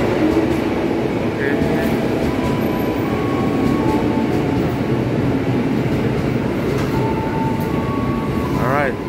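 A commuter train rumbles steadily at close range at a station between Tebet and Pasar Minggu, Indonesia, with a loud mechanical drone, faint squeals and chimes, and voices mixed into the station noise.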